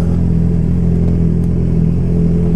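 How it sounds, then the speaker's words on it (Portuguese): A Honda CB1000R Black motorcycle's exhaust revving up close, a loud, steady low engine rumble with a strong throbbing pulse, running continuously with no voices. "vão ouvir o escapamento"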